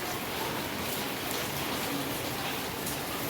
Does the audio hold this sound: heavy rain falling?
yes